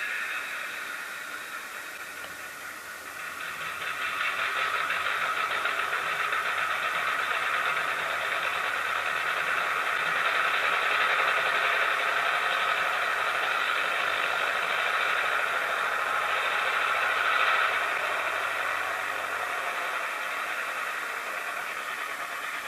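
Sound-equipped model train locomotive held in place, its engine effects running steadily throughout with a hissy, whining drone and a faint low rumble, no talking.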